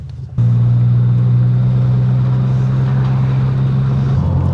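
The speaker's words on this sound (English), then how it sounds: "The engine sounds much better than it did earlier though." A car engine starts up and runs at a steady, loud, low hum, close by.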